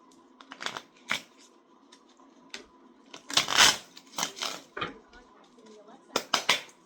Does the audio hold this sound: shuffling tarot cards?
yes